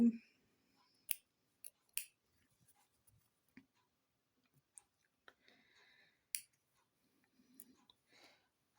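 Scissors snip the threads of an embroidered napkin in scattered sharp clicks about a second apart, close and quiet, with soft breathing and faint handling sounds in between.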